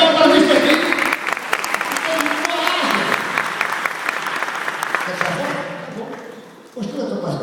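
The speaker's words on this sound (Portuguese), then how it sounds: "Uma série de palmas para isso aqui." Audience applause at a live comedy show in Juiz de Fora, loud dense clapping from a crowd with voices mixed in, fading slightly before a brief dip and a renewed burst at the end.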